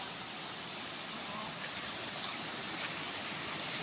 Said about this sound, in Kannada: ಇದು ಹಳ್ಳದಲ್ಲಿ ನೀರು ಹಿಂಗೆ ಹರಿತಾ ಇರ್ತದೆ ನೋಡಿ